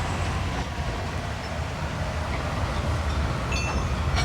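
A train passes along a steel railway line laid over an old canal bed on bog: a steady loud rumble and rolling clatter throughout, close by and continuous, with faint squeaks near the end.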